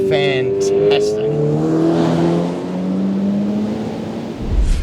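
A 2025 Subaru BRZ sports car accelerates through gears, engine note rising then dropping at each shift, heard from inside the cabin while someone talks over it.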